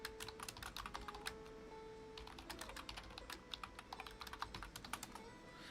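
Steady run of typing on a computer keyboard while setting up a Linux lab and gaming, with quick irregular key clicks heard close and fairly quiet with no talk.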